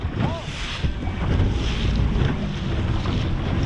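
A sailboat sailing upwind in strong wind: gusts roar across the microphone over the wash and slap of water against the hull, loud and close throughout.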